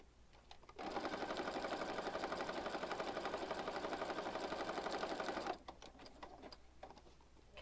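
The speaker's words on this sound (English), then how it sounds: "How many of you use your sewing machines when you're working on your junk journal stuff?" A sewing machine stitches steadily for about five seconds at a junk-journal and mixed-media crafting table, a loud, even mechanical whir that starts abruptly and stops short, with quieter handling noise before and after.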